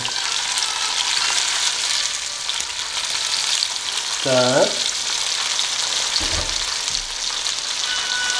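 Steady, loud sizzling of shrimp frying in a hot pan of oil at half heat, continuous throughout, with a brief spoken word partway through.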